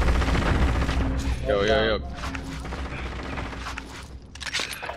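Rapid gunfire in Call of Duty Warzone, an enemy shooting from a tower at the quarry, crackles in dense bursts under a player's brief shout and ongoing voice chat, with a swelling burst near the end.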